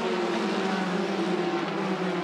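A Formula 4 race car engine drones steadily at high revs with a smooth, constant tone through a corner sequence in a 2017 Southeast Asia race, with no clear gear-change breaks.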